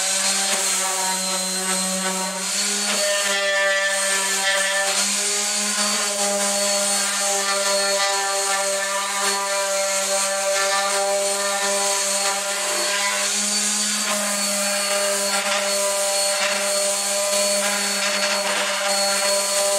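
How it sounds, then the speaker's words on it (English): A power sander with 80-grit paper works over pallet wood boards, a continuous loud whine with a steady hum and a faint rasp of abrasive on wood, running without pause and with no talking. "before we start assembling the floor, we're just going to give these a nice light sanding"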